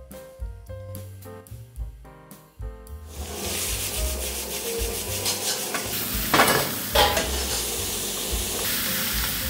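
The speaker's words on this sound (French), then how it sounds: "Pour faire cuire les épinards, je ne les fais jamais à l'eau bouillante. Je préfère les poêler à l'huile d'olive." Spinach sautéing in olive oil in a pan, seasoned with salt and pepper, a bright sizzle that rises after a few seconds of background music and then keeps a steady hiss with occasional louder stirring bursts.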